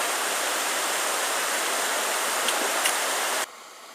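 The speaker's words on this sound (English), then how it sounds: "let's get this canoe down over the rough bit" Rough river rapids rush loudly as a canoe is taken down a choppy stretch, a broad continuous roar of churning white water close by, cutting off abruptly near the end to a quieter wash.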